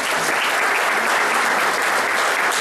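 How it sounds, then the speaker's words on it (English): Steady, dense applause from an audience at a campaign event honoring a retired Jacksonville sheriff's officer, a loud, continuous wash of many hands clapping throughout with no voices standing out. "I'd like everybody to give him a big round of applause."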